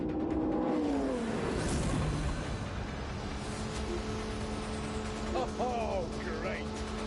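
Hypercar engines in the Grand Tour game rev and drone steadily, a mid-level motor roar with rising pitch sweeps, heard beneath a voice speaking.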